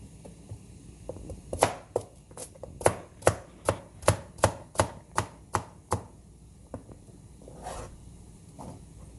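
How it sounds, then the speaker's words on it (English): A knife chops carrots on a board in a quick series of about a dozen crisp, evenly spaced cuts, close and clear, followed by a few scattered softer taps, with no speech. "I'm cutting up the carrots."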